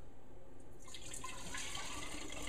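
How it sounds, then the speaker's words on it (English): Homemade kefir is poured back into a jar. A liquid trickle and splash starts after a brief quiet moment and runs steadily to the end, close and clear, with no talking. "just pour it back in the jar."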